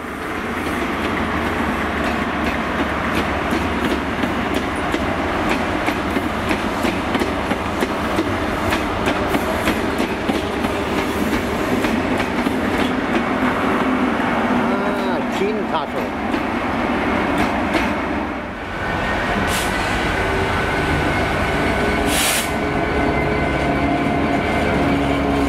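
A train rolls through Cardiff Central station with a steady, loud rumble and rhythmic clatter of wheels over rail joints, a horn-like tone sounding briefly near the end while a voice speaks faintly beneath.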